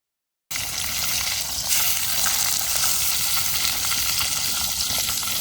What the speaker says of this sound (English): Seal the beef and get a bit of colour on it